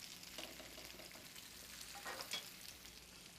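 Cipolline onions browning in a pan give off a soft, steady frying sizzle, faint and continuous with a few small crackles and the occasional stir, with no talking.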